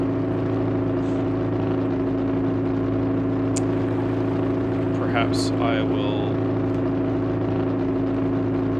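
Loud, steady engine drone of a motor yacht in the eSail sailing simulator game, a constant humming tone throughout, with someone speaking briefly over it.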